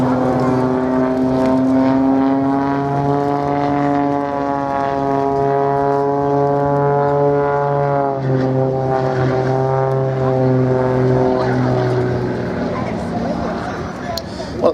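An Extra 300 aerobatic plane flies a display, its propeller engine droning loudly with a pitch that rises and falls through the manoeuvres, while a voice talks over it.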